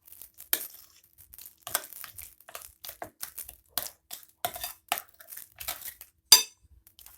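Sweetened condensed milk is stirred into a mixture in a bowl, making soft irregular scrapes and light clinks of a utensil against the bowl, close and fairly quiet with no talking.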